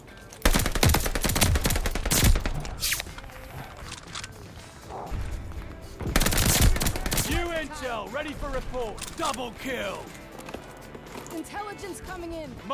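Gunfire from the video game Call of Duty Vanguard: loud bursts of rapid automatic fire and single shots in clusters, with a player talking excitedly throughout.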